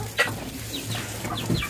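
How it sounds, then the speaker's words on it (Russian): Hens clucking inside a henhouse on a farmyard, a few short close clucks and soft chirps scattered over a low steady background hum. "Да вот можете посмотреть, в каком курятнике у нас содержатся куры."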